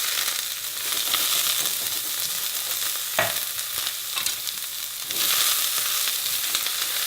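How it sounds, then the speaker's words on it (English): Julienned red onions sizzle loudly in about a tablespoon of olive oil in a preheated pan, a continuous close frying hiss with scattered stirring clicks and no talking. "So we preheat our pan and add about a tablespoon of olive oil to it. To that we're gonna add some julienne red onions."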